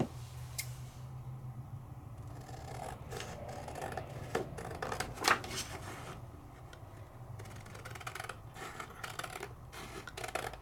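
Scissors cut freehand around a paper die piece in cardstock, making faint, intermittent snipping and rustling at close range with no talking.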